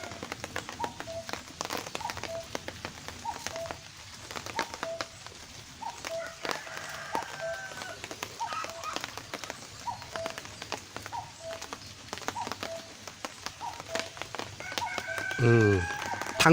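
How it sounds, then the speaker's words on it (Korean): A cuckoo calls repeatedly in quick, hurried notes during a summer rain in the countryside, faint and somewhat distant against a soft, steady hiss of rainfall, with a person talking quietly at times. "뻐꾸기가 아주 급하게 울어댑니다."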